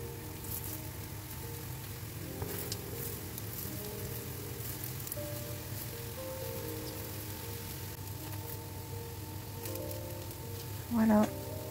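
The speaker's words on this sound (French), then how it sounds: "on prend une poêle avec de l'huile bien chaude et on dépose nos galettes tout simplement" Potato patties frying in a pan of hot oil, a soft steady sizzle running throughout at low level with a brief louder clatter near the end.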